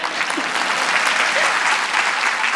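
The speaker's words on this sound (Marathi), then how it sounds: "कडाडून टाळी पडली. आपणही वाजवूया." Theatre audience bursts into loud, sustained clapping during a stage musical drama performance, dense and steady throughout the short burst with no talk.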